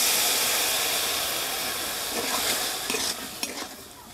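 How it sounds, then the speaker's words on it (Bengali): Half a cup of milk goes into a pan of spiced vegetables for a vegetable biryani, and a loud, steady hissing sizzle follows. It fades slightly as a few stirring scrapes and clinks come in, with nobody speaking. "মিশিয়ে নেওয়া হয়ে গেলে এর মধ্যে হাফ কাপ পরিমাণে দুধ দিয়ে দিচ্ছি"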